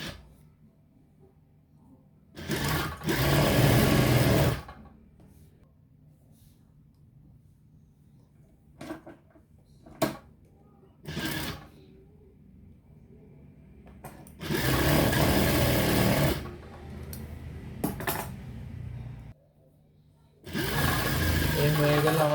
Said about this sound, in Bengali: ঠিক এখানে সেলাই করে নিব।